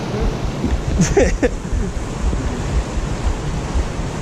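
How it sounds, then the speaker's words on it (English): A waterfall fed by a river on the West Coast Trail gives a steady broadband roar mixed with wind buffeting the microphone, and a brief voice is heard early on. "And those would be the falls right there"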